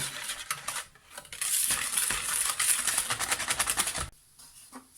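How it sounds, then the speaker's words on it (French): Almond powder is stirred into orange cake batter in a bowl, giving a close, dense run of scraping and clinking from a utensil against the bowl, with brief pauses and a quieter stretch at the end, and no talk. "on vient rajouter ici la poudre d'amande. On mélange."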